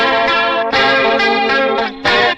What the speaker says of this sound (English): I don't know what a good analog chorus sounds like, but I think this sounds really, really good